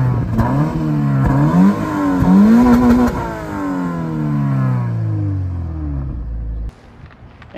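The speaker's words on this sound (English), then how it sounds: "Dual exhaust tips, which look really good and actually sound really good too" A 2020 Subaru BRZ Limited with dual exhaust tips revs loudly up and down in rising and falling sweeps, then settles to a lower idle before cutting off near the end.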